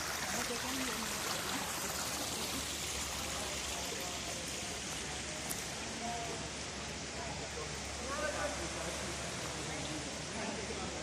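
Waterfall and stream water at Somerset Falls in Portland, Jamaica make a steady, broad rushing wash throughout, with faint voices under the roar.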